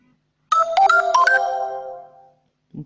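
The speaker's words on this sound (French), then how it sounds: "désolé pour la notification de Clash of Clans" The Clash of Clans game notification rings out clearly as a short bright chime melody of rising tones that rings on and fades, alone apart from a brief faint sound right at the end.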